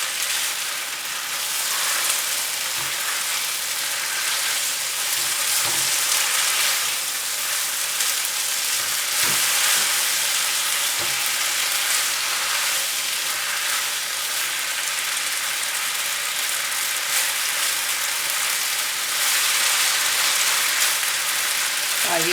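Pad Thai sizzles and fries in a pan on a propane stove top at home, a continuous dense hiss heard up close with occasional faint clicks and scrapes.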